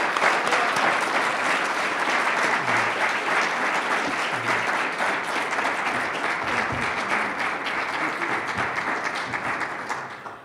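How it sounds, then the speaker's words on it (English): An audience at an architecture school lecture applauds a guest speaker, a dense sustained wash of many hands clapping in a hall that stays steady before tapering off near the end. "please join me in clapping."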